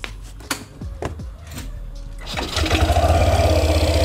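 A Yamaha All New NMAX 155 scooter engine starts after a few faint clicks and knocks, then settles into a steady, loud, close idle that fills the rest of the moment.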